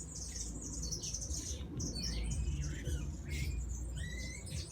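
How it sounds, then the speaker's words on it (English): A small pet bird squawks and chirps indoors, a run of scratchy high calls and squeaks close by over a steady background hum. "What bird's that?"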